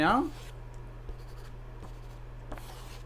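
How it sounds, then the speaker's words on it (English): A pencil scratches on paper in a few brief, faint strokes close by, following a short burst of a man's speech, over a steady background hum. "This is why I've got the pencil. So I can draw."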